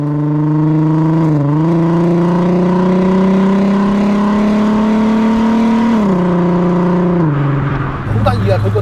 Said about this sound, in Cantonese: 咁所以大家聽到個尾喉嘅聲